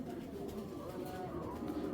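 Racing pigeons of super champion bloodline, a young pair of large birds, coo softly and continuously at close range over a low murmur of background noise.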